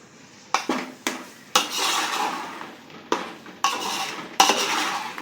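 A spoon scrapes and clanks against a pan as a thick bread halwa mixture is stirred, with several sharp metallic knocks spaced across a few seconds over a soft, steady scraping.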